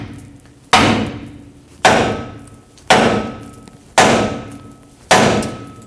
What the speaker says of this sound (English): Use a large hammer and hammer right here and right here to break the ball joints free from the axle tube